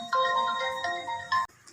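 A telephone rings with a bright, repeating electronic melody in a home setting, loud and close, cutting off abruptly near the end.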